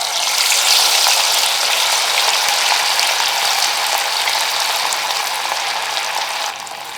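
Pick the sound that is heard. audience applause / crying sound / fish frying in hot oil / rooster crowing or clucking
fish frying in hot oil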